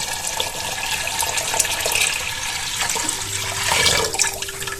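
About 2.5 liters of water pour steadily into a cooking pot of wheat for traditional Greek varvara, a loud, close, continuous rushing splash running throughout with no talk.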